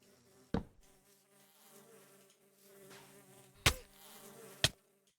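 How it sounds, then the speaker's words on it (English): A bee in the Minecraft modpack All The Mods 6 gives off a soft, steady droning buzz, broken by three sharp clicks or thuds, with no talking. "So let's place our bee down."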